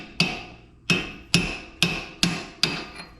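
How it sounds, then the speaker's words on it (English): Hammer driving a chisel against metal on a Honda Integra around the tie rod, six sharp ringing strikes at a steady pace of roughly one every half second, close and loud with no talking. "Hammer chisel time."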